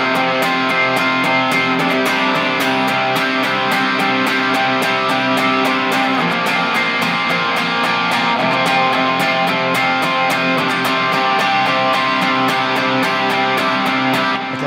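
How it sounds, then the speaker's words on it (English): An electric guitar plays chord downstrokes in steady, evenly spaced strums, a continuous ringing wash with sharp regular attacks throughout, close and loud with no talking. "I'm going to play downstrokes"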